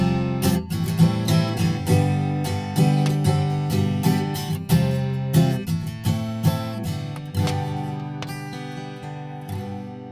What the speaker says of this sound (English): And finally, we have the Me 4 Carbon, which is totally made out of carbon fiber.